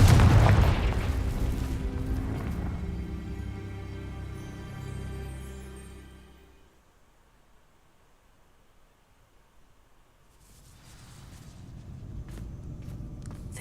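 Confringo fire spell igniting dry vines in Hogwarts Legacy, a loud deep boom at the start that rolls into a crackling, rumbling burn and fades to near silence before softer ambient noise returns.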